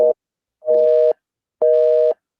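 A telephone busy signal gives loud, clean beeps of a steady tone, each about half a second long with equal gaps, heard close and alone.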